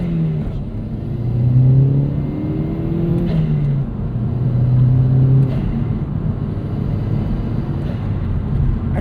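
A 2009 Chevrolet Cobalt SS turbo hot compact accelerates on the highway, its engine note rising steadily in pitch, easing briefly at a gear change and climbing again, a loud close interior drone throughout with no talking.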